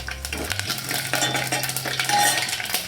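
Mustard seeds go into hot oil with fried curry leaves in a pan while mango raita is being made, giving quick crackling and clinking spatters close up, with no speech.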